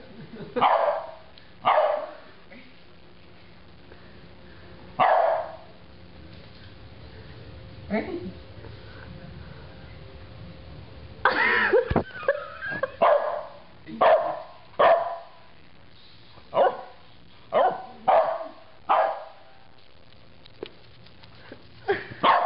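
A dog barks in repeated sharp bursts, close and loud, with short pauses between them, while people talk over and between the barks.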